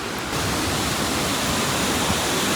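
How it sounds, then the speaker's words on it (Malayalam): Grahan waterfall roars in a steady, broadband rush of falling water, loud and close, with a constant hiss and no voices. "അപ്പോൾ ഇതാണ് ഗ്രഹണിലെ വെള്ളച്ചാട്ടം"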